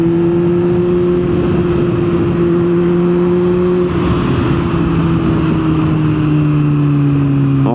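A motorcycle rides through Timișoara traffic with a steady engine drone and loud wind rush, close and continuous. Engine pitch holds, then eases slightly lower partway through. No voices are heard.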